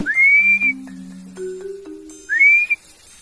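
Two sharp rising whistles, near and loud, open and close the clip, separated by quieter low electronic tones.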